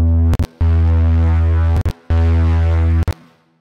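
Synth bass line with a filter envelope opening up the tone, playing three long sustained notes, each cut by a short gap, loud and alone.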